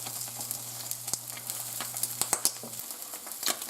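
Eggs sizzle and crackle in a frying pan, a steady frying hiss dotted with sharp pops and spits, close up and quiet, over a low steady hum that cuts out near the end.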